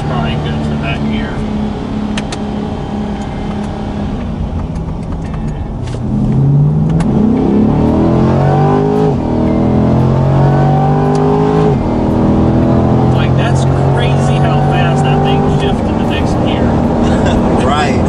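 A 2020 Chevrolet C8 Corvette accelerates in second gear. The engine note climbs loudly and steadily in pitch, then settles into a sustained drone, with people talking over it.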